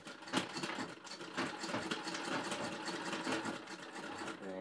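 A sewing machine runs steadily while stitching a homemade fabric face mask, its rapid whirring needle close and continuous for a few seconds with no talking.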